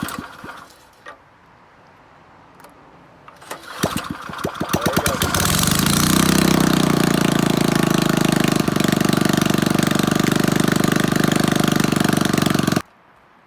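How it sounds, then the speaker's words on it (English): A cheap secondhand snowblower engine sputters through a few rough pulls and catches, then roars loudly and steadily at close range for several seconds before cutting off abruptly. "I'm gonna put some gas in it and see if it'll run. Let's see what happens. Oh, it started."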